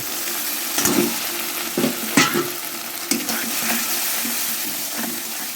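Potatoes for Kashmiri dum aloo being stir-fried with a little water and green chilli, giving a steady close sizzle broken by several scraping stirs of the spoon against the pan.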